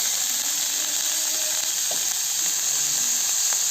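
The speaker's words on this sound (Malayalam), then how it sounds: "ഇനി ഈ സവോള നല്ലതുപോലെ ഒന്ന് വഴറ്റിയെടുക്കണേ അതിനായിട്ട് ആവശ്യത്തിന് ഉപ്പ് ഇട്ട് കൊടുക്കാം" Onion with salt sautéing in a pan makes a steady, close hiss of frying with a few faint scrapes and ticks, and no voices are heard.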